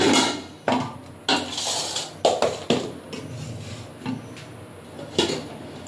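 A metal wok set down on a gas stove in a village kitchen, heard as a series of sharp clanks and knocks close by, several impacts spread over a few seconds with no talking.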